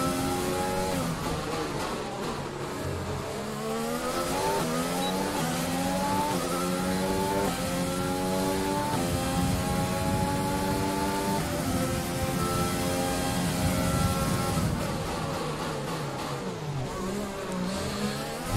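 Formula 1 car engine in the video game F1 2020 at the Baku Grand Prix, a loud continuous high-pitched whine with repeated rising and falling gear-shift sweeps, heard alone for the whole stretch.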